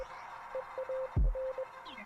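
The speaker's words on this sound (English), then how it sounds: "As soon as our encounter with him begins, we hear a bunch of beeps and boops." Short and long electronic tones beep out Morse code during a video game boss encounter, a steady pitched pattern of dots and dashes broken by a brief low thud midway.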